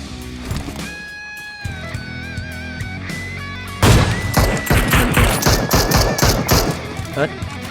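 Bursts of video game gunfire in PUBG Mobile: softer tonal game sounds and occasional shots first, then dense, loud rapid-fire volleys crackling close up through the second half.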